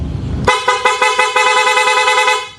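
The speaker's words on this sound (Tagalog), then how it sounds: "Ayan yung busina niya, napakalakas." A loud, blaring horn on a Sniper 150 motorcycle fitted with a rapid horn, sounding in a rapid series of repeated toots, close and piercing, with no talking.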